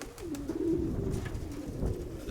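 A pigeon coos nearby in a low, soft, drawn-out call, heard alone over a faint rumble of wind.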